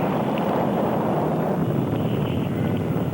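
Archival recording of the Apollo 11 rocket liftoff: a loud, continuous, broadband rumbling roar with no breaks and no voices.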